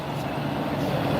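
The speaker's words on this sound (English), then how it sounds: "All the dustmen driving past." A garbage truck drives past, a loud steady low engine rumble that stays fairly even throughout, close and with no talk over it.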